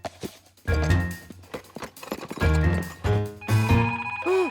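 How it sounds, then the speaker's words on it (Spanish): A telephone rings in repeated electronic bursts in a Spanish-dubbed Curious George cartoon, amid busy cartoon music and clattering sound effects, fairly loud throughout. "¡El teléfono!"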